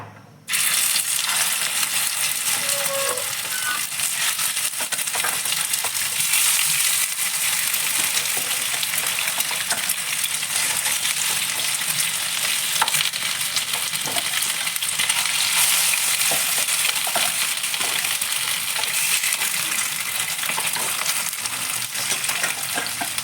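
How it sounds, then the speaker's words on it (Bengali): Katla fish sizzles in hot oil in a frying pan, a loud, steady, dense crackle that runs unbroken from start to finish with no talking. "এখানে ফ্রাই প্যানে মাছটা দিয়ে দিলাম"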